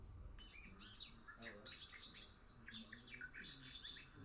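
Recorded bird song, probably a bobolink, played back during a talk: a quiet, bubbling run of rapid varied chirps and warbles continuing throughout, slightly distant over a low room hum.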